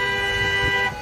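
Vehicle horns honking at the Coutts border trucker convoy, a sustained tonal blare held steadily for about a second, loud and close, with a faint crowd murmur beneath.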